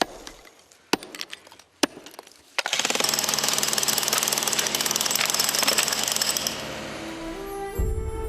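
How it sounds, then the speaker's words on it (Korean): Hammering breaks a hardened sand mold off a newly cast Buddhist temple bronze bell, starting with a few sharp separate strikes and then turning into a loud, rapid, continuous metallic pounding that runs for several seconds before stopping. "돌처럼 굳은 모래를 깬다. 망치질이 계속되는 동안 점차 범종의 모습이 드러난다."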